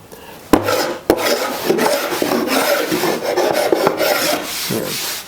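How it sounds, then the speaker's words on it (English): Hand scraping on the wood of an armoire just out of its clamps gives close, rasping strokes in an uneven rhythm, with two sharp knocks near the start. "I need a little scraping here on the other side."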